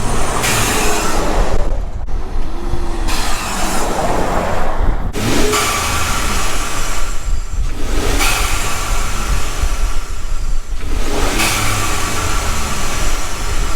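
A 2015 Ford F-150 EcoBoost truck with a vent-to-atmosphere blow-off valve runs loudly nearby, engine revs rising and dropping with repeated whooshing venting bursts between them, several cycles in a row.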